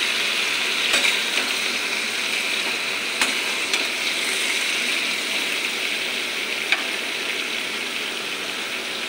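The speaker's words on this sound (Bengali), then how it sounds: "ঝিঙেটা ভাজা ভাজা হয়ে যাক।" Ridge gourd fries in a pan, probably under a lid, with a steady, fairly loud sizzle that runs throughout and a few faint clicks and taps.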